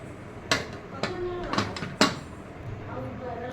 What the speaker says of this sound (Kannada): ಇವಾಗ ಕುಕ್ಕರ್ ಕ್ಲೋಸ್ ಮಾಡ್ತೀನಿ